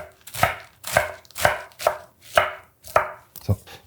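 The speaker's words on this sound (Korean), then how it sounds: "알배추 채를 썰 건데 폭이 한 5mm 정도 된다" Knife chopping napa cabbage into thin strips on a cutting board, seven crisp, evenly spaced chops in a steady rhythm, close up and alone.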